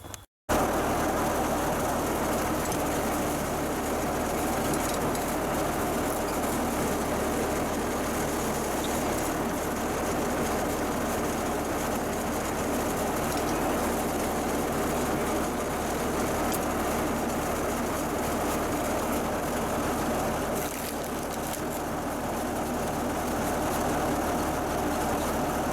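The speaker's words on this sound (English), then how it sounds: "I'm going to pull the skid steer up here and hook it up, and we'll cycle it a couple times" A skid steer runs close by while hooked to a hydraulic rim crusher. Its loud, steady engine drone holds almost unbroken throughout, with no talk.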